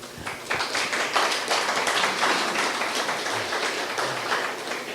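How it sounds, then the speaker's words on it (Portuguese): An audience at a beekeeping association meeting applauds as a veterinarian speaker is introduced, with scattered claps building into a full, fairly loud round that stays steady and then eases slightly toward the end. "Pode aplaudir"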